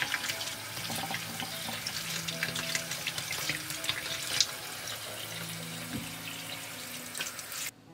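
Tap water runs steadily over washed strawberries in a sink, a continuous close splashing stream with small bubbling variations and no voices.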